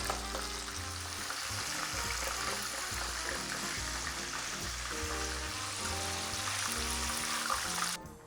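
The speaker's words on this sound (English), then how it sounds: "we're just gonna let them do their job in the grease" Chicken wings for lemon pepper wings fry in hot grease with a dense, steady sizzle and bubbling that holds at an even level and then fades at the end. Nobody speaks over it.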